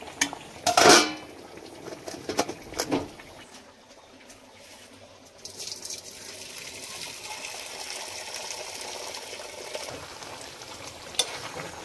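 Cooked rice being stir-fried in a pot for Kolkata-style chicken dum biryani, starting with sharp metal clanks and scrapes from a spoon, then a low, steady sizzle with faint stirring.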